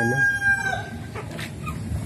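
A chicken clucks and crows briefly at close range, with farmyard background noise.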